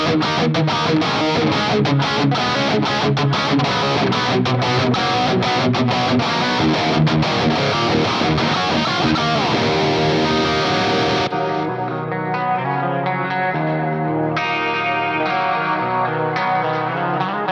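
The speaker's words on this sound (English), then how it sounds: "you would have noticed that slight gap when it went from the dirty channel to the clean channel." An electric guitar run through an Axe Fx III plays a heavily distorted rhythm part, then switches to a shimmering clean channel with chorus and echo after a slight gap, loud and continuous with no talking.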